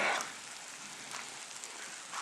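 Light rain patters steadily on a surface at a cabin in Prescott, Arizona, soft and even, with a few slightly louder drops now and then.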